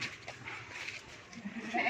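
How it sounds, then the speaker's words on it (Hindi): Young goat kids bleating while suckling milk at a goat farm, several high, wavering bleats overlapping at close range with steady farm background, no talk. "ये अपने आप दूध पी रहे हैं माशाल्लाह।"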